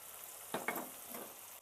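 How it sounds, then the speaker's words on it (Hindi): Masala and tomatoes for a dhaba-style dal mash fry over low heat, giving a faint, soft sizzle with a couple of brief stirring scrapes near the start. "इसको हम आँच हल्की पे भून लेते हैं। ये हमारे टमाटर के साथ ही ये अच्छे से भुन जाएगा मसाला हमारा।"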